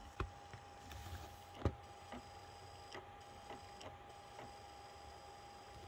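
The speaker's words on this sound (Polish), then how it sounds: "widać, że CD-ROM pracuje i słychać to" A CD-ROM drive works inside a Toshiba A100 laptop, giving faint, irregular clicks and ticks over a steady low whir. The sound is quiet and close, with no voices.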